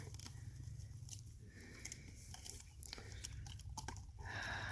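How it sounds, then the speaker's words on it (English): Dogs gnawing together on a stick, a steady stream of close crunchy chewing and biting clicks over a low background hum, with no talk. "Ending our play session with some community stick chewing."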